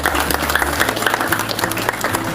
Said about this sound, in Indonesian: Boleh beri tepuk tangan untuk mereka semua.